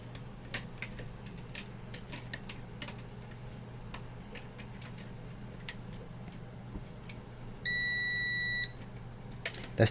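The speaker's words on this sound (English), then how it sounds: "That's the continuity meter" A continuity meter used while gluing the blade of a Cyberpunk Arasaka Thermal Katana prop gives one sustained electronic beep about a second long, amid quiet scattered clicks and taps.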